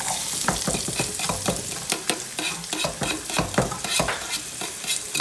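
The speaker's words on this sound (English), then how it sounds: "We got garlic, peppers, and onions. So now we're going to saute this" Garlic, peppers and onions sautéing in a hot pan for spaghetti and meatballs sauce, loud close sizzling with frequent sharp stirring clatters and scrapes throughout.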